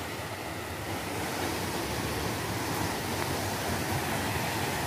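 Continuous dense rush of the Coban Tarzan waterfall, a hidden cascade in a forest setting, heard as a loud, steady roar of falling water without any speech.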